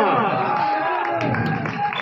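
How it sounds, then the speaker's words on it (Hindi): Spectators at a state championship match in Nainsarai, Ashoknagar district, Shajapur versus Vidisha, applauding and cheering as a crowd, with an announcer's voice running over the clapping throughout. "दर्शकों के लिए तालियां"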